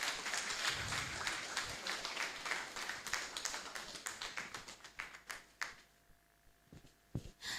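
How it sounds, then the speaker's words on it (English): A career fair audience gives a round of applause as guests take their seats. Dense clapping fills the room at first, then thins into scattered individual claps that trail off toward the end. "a big round of applause as they take their seats"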